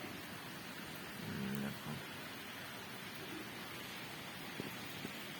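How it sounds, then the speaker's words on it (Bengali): Rain falling steadily outside a window in West Bengal, a soft continuous wash of noise with a brief voice heard once. "এই দেখো বৃষ্টি পড়ছে।"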